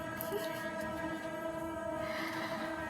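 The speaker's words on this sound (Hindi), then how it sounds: "ये ट्रेन का जो हॉर्न है ना, बहुत ज़्यादा इरिटेटिंग है" A train rumbles past close by, its steady drone joined by a sustained horn blast that brightens near the end, with no voices.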